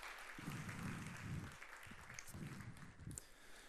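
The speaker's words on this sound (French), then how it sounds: "Est-ce qu'on peut les applaudir, s'il vous plaît?" Audience applause for stage managers, steady clapping from a crowd heard at a fair distance and fairly faint, sustained for several seconds with no voices over it.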